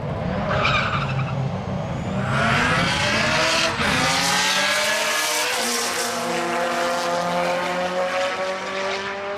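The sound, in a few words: RX drag race car launching off the start line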